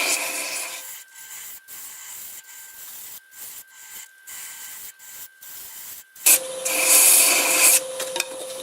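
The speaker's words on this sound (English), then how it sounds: "I'll sand this in reverse. Probably about 600 RPM with 80 grit" Wooden coffee scoop being sanded with 80 grit on a lathe running in reverse at about 600 RPM, giving a continuous rough rubbing rasp that pulses irregularly, then grows louder and brighter near the end.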